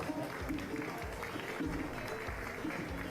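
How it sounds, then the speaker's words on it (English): At a youth swine show, a livestock show crowd gives a short round of applause, a soft, distant patter of clapping beneath low murmuring and arena background noise. "Give them a good round of applause."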